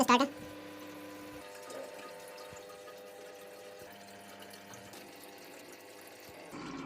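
Water pump running as it fills a household water tank, a steady mid-level hum with trickling, sloshing water and tonal resonance, a sharper splash or clatter at the very start and end.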